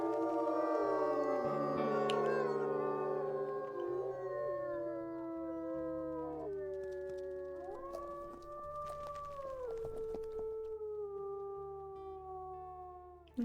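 Wolf howl in the video game WolfQuest, a long, loud wavering howl from several voices that rise, overlap and hold for many seconds, with no talk.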